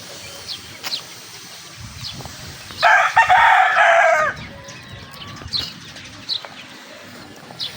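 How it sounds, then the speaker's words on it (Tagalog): A rooster at a backyard gamefowl farm in Imus, Cavite crows once loudly and close for about a second and a half, with faint bird calls and rustling before and after. "Ito yung manok na pinapatuka sa kawali."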